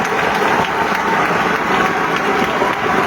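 Crowd applauding steadily at a celebration honouring a deputy mayor, a dense continuous clatter of many hands clapping at close range for the whole stretch.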